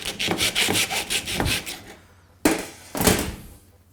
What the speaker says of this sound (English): So again, sawing.